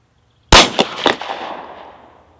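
Winchester 124 grain NATO rounds fired in quick succession: one loud sharp crack followed by two more close reports and a few smaller ones, ringing off into a long decaying tail.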